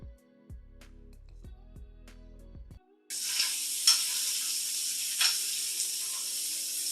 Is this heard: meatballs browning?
yes